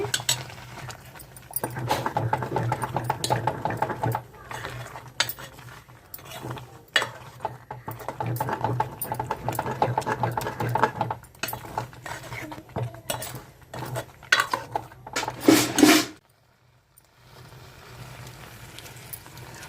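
A spoon scrapes and clinks against a pot while jaggery syrup is stirred into cooked rice, repeated irregular metallic scraping with a few sharper knocks, ending in a brief quiet.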